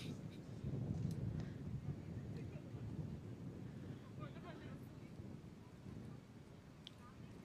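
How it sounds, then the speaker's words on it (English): Strong gust of wind buffeting the microphone at an outdoor archery range during a compound cadet men's bronze match, a low rushing roar that swells then eases, with a commentator talking over it. "Big gust of wind."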